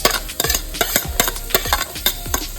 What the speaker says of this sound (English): You just want to cook up the onion in that.